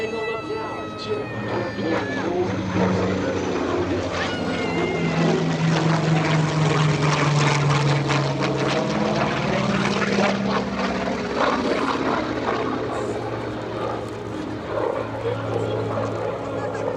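A Corsair propeller fighter roars past at an air show, its engine drone loud and steady throughout with a rising and falling pitch, while an announcer talks over it.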